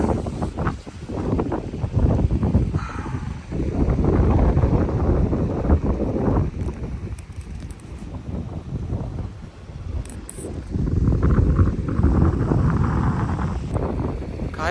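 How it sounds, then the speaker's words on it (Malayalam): Strong gusts of wind buffet the microphone at a wild campsite in the Lake District, coming as loud, sustained rushing waves that swell and ease over the stretch, with no talk. "കണ്ടോ, നല്ല കാറ്റുണ്ട്"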